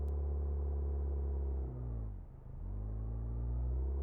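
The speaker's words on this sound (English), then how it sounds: "they updated the vehicle sounds" Realistic vehicle engine from the Outbrk storm-chasing game, a steady low rumble that dips briefly as if shifting or easing off, then settles back into a constant drone with no talk.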